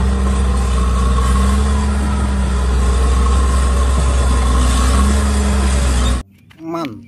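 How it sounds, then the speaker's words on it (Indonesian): A toy bulldozer sound effect gives a steady, loud rumbling engine idle that holds for about six seconds before cutting off abruptly, followed by a brief spoken word. "Bulldozer."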